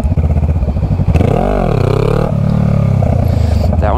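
A Honda Rebel 500 motorcycle engine revs hard during a wheelie attempt, loud and close, climbing and dipping in pitch as the throttle is blipped, then settling into a steady rumble.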